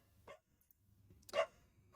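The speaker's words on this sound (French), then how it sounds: "Je suis vraiment désolé pour mon chien qui aboie toutes les 10 secondes." A pet dog indoors gives two short, muffled barks about a second apart. They sound faint and slightly distant in an otherwise quiet room.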